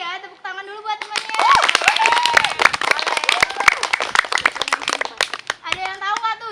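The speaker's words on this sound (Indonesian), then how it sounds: "tepuk tangan dulu buat temannya" A group of schoolchildren in a classroom claps for a classmate, a brisk burst of close-up hand clapping with children's voices speaking before and after it.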